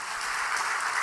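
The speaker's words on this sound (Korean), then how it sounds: "박수 한번 하십시다" A church congregation claps together in a Sunday worship service, a brief burst of steady, dense applause filling the room.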